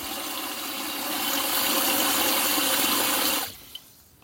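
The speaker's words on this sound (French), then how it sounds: "Voilà, j'ai mis la montre dans l'eau." Water splashes and pours steadily as a Kospet Tank T3 Ultra 2 smartwatch is submerged, a close, broad rushing sound that swells and then stops suddenly, followed by a faint drip.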